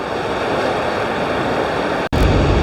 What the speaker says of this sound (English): that the thunderous roar of this waterfall is coming through